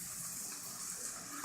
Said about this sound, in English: So now we're going to add our broth.